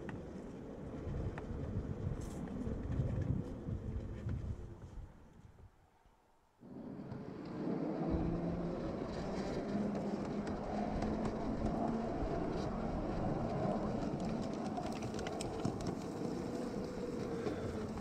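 A Maxitrak Ruston 5-inch gauge miniature locomotive runs along a track on a slight climb, a steady rumbling roar with wind noise and a brief quiet dip near the start.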